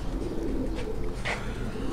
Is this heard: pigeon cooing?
yes